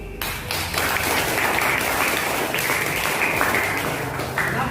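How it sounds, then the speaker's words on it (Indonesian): Group of people clapping hands in sustained applause throughout, dense and steady, in a school class gathering. "kita beri tepuk tangan dulu"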